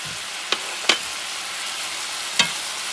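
Chuck steak fried rice with garlic frying in a pan, a constant bright sizzle broken by three distinct scrapes and clacks of stirring, close and alone without talk.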